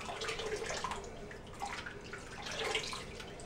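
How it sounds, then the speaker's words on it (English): Water splashes and runs at a sink as a face is rinsed during a straight razor shave, a steady close wash with irregular splashy surges. "I'm gonna rinse off my upper face."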